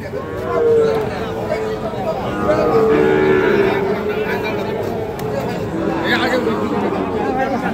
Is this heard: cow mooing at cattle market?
yes